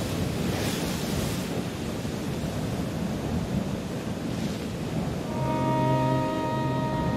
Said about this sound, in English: Seasonal winds from Siberia cause turbulence in the Sea of Japan in winter.